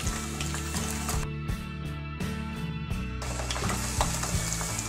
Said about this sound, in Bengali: এখানে আমার তেলটা গরম হয়ে গিয়েছে। এখন আমি এখানে যে রসুনটা রেখেছি, আমি সেই রসুনটা আস্তে আস্তে করে দিয়ে দেব।